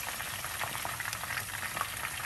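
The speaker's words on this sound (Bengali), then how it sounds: "এখন ফ্রাই করে নিচ্ছি আমরা" Chicken wings frying in hot oil, a dense, continuous crackling sizzle with scattered pops, close and steady throughout with no voices.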